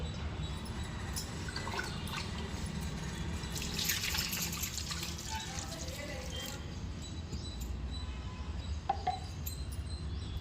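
Water runs and drips steadily from a tap while freshwater pond fish, korrameenu (murrel), are being cleaned, a continuous splashing trickle with people talking over it throughout.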